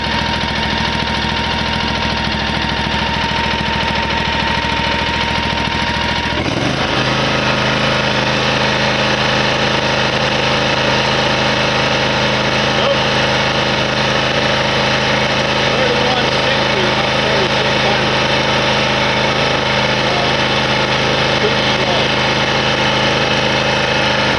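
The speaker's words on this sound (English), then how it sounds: "I'm going to crank it up to full power and see if I'm getting 36 RPM recommended by the manufacturer to mow at full speed." A lawn mower's engine drones loud and close, shifting pitch after several seconds as it is throttled up to full power and then holding a steady high hum with no break.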